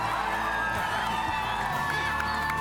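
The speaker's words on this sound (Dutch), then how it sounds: "Mag ik een groot applaus voor Anna, Fons en Rosario?" A studio audience cheers and whoops for the finalists, a dense, steady roar of crowd noise with shouts mixed in throughout.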